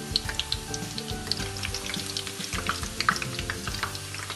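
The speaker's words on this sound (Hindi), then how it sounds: "थोड़ा थोड़ा करके फ्राई करेंगे ताकि अच्छे से फ्राई हो जाए।" Eggplant slices fry in hot oil in a home kitchen while a cook makes eggplant raita, giving a steady close sizzle with crackling pops throughout and no talking.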